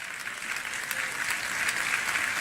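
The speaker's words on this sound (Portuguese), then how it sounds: "Aplauda o Senhor." A church congregation applauds during a sermon, a steady wash of many hands clapping at moderate distance, even and sustained throughout with no voices on top.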